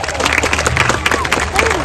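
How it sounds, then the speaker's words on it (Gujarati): A crowd in a hall applauds a small child, giving a dense, steady patter of clapping that carries on throughout. "તો પહેલા તો સૌથી વધારે તાળીઓ થઈ જાય નાનકડા બચ્ચા માટે"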